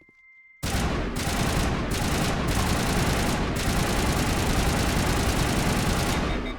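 Sustained automatic weapon fire in Mass Effect Legendary Edition starts abruptly and roars on loud and continuous, with a few brief breaks that split it into long bursts.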